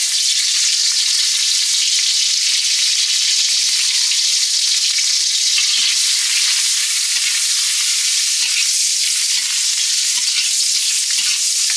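Onions fry in oil in a pan for a village-style egg curry, giving a loud, steady, close sizzle that hisses evenly throughout with faint stirring clicks underneath.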